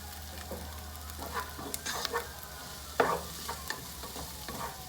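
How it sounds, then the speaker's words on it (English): Garlic and vegetables frying in a pot for albondigas soup, a soft continuous sizzle with spoon scrapes and clanks as they are stirred, close and quiet with no talking. "Stir that around really good so that it doesn't burn."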